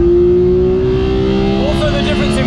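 A race car on slicks with downforce roars past loudly on a track, a sustained engine drone dominating, while someone talks over it.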